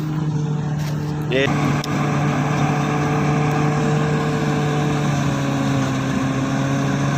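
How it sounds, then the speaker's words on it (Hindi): A parked tractor in a Sindh village runs with a steady, loud, close engine drone that holds an even pitch throughout, with a brief higher whine early on. "ट्रैक्टर है"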